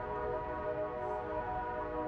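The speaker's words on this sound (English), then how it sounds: "You can hear the train now." A train passes in the distance as a steady, low rumble with faint sustained horn-like tones, continuous throughout with no talking.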